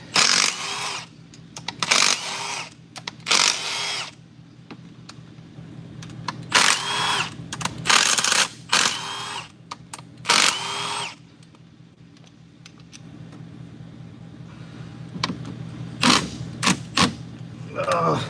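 On a C7 Corvette during a direct injector install, a ratchet with a swivel socket whirs in repeated short bursts separated by quiet pauses, close to the microphone, with brief voices in between.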